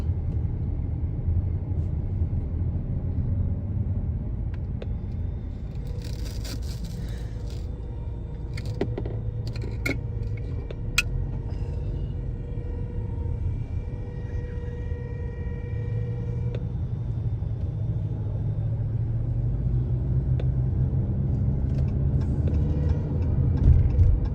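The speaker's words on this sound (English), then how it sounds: "Traffic here seems to move pretty slow even without our help." Slow-moving road traffic during a convoy to Placerville, a continuous low engine rumble with occasional clicks and faint higher tones, heard from inside a vehicle with no talk.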